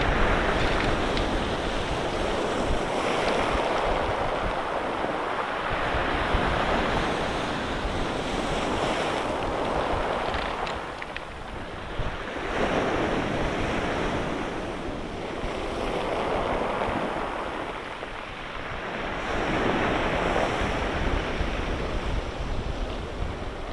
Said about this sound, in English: It's very hypnotic standing here watching the waves come through the arch.